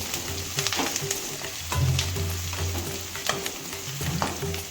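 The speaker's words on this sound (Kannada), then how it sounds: "ಬೆಳ್ಳುಳ್ಳಿ ಪೇಸ್ಟ್, ಎಲ್ಲ ಹಾಕಿ ಚೆನ್ನಾಗಿ ಮಿಕ್ಸ್ ಮಾಡ್ಕೋಬೇಕು." Garlic paste stirred into a hot pan for dal khichdi gives a steady close sizzle, broken by repeated scraping strokes of the spoon and a low background hum, with no talking.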